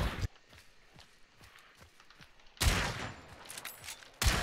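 Gunfire in the video game Hunt: Showdown, with a loud sharp blast at the start and another just past halfway, then a third at the very end, while light thumping steps run between them.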